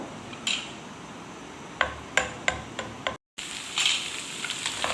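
Garlic and ginger sauté in hot oil on a tawa, a steady close sizzle with several sharp clacks of a spatula against the pan, briefly cutting out before the frying hiss continues.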